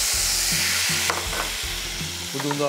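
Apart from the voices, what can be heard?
mushrooms frying in hot butter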